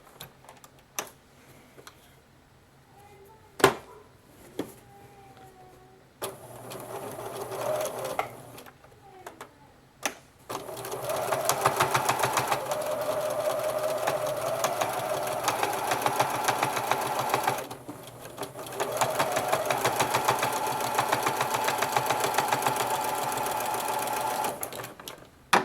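Sewing machine top stitching a seam on a child's boxer brief, starting with a few short stitching bursts and clicks, then running in long continuous rattling stretches with brief pauses.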